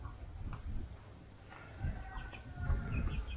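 Chicken hens cluck softly near a brooding hen, with short low clucks scattered over a muffled background rumble.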